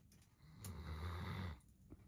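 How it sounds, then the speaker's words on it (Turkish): A wolf dog snoring softly, one drawn-out rasping breath swelling and fading, quiet and close, with faint breaths on either side. "Horlama oğlum."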